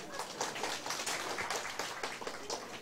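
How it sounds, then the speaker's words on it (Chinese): Audience applause at a seminar in Taiwan, a dense steady patter of many hands clapping for about three seconds with no clear voices over it. "掌声给自己鼓励"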